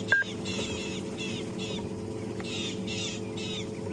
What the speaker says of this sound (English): You hear the birds shouting at him?